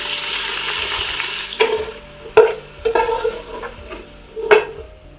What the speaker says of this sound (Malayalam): കുറച്ച് സവോള ഇട്ട് ഫ്രൈ ചെയ്തെടുക്കുകയാണ്